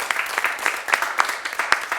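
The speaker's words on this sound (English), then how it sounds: "Can we get a round of applause for Stephanie, please?" An audience at a pain education event applauds, a dense burst of many hands clapping fairly close, steady throughout.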